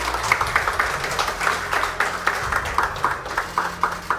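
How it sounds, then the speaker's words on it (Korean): Scattered clapping from the audience at a Korean information security day award ceremony, a thin, uneven patter of hands with distinct individual claps rather than a dense roar. "박수 좀 부탁드릴까요?"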